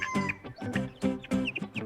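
A hen clucking close up in a quick series of short, choppy clucks and squawks, clear and moderately quiet with no talking.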